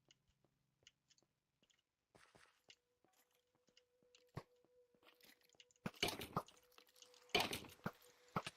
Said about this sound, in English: You could hear it raining because there's one single block up there from which it would let you fall